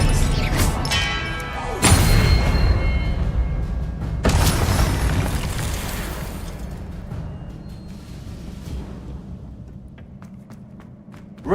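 Hogwarts Legacy spell effects hit hard as Expelliarmus lands. Two loud crashing impacts come a couple of seconds apart, and each one tails off into a long fading rumble.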